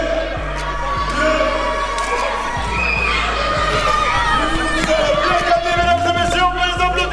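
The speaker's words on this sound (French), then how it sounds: "on peut les applaudir, on peut les encourager encore" A crowd at a championship match cheering for a team, loud, continuous shouting, children's cries and chatter with scattered thumps, and no distinct clapping standing out.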